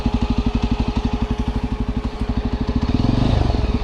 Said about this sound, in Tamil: வண்டி சவுண்டு பயங்கரமாக இருக்கு கைஸ். இப்போ உங்களுக்கு கேட்குதா?